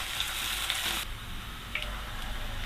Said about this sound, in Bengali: তেলটা গরম হয়ে গেছে। এখন আমি এখানে পেঁয়াজ কুচানো দিয়ে দিচ্ছি।